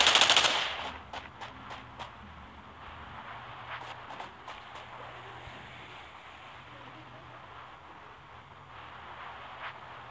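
A burst of automatic gunfire in the battle-royale game Rules of Survival opens loud, then sparser distant shots crackle over a low engine-like drone.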